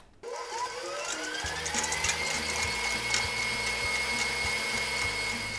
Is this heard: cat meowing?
no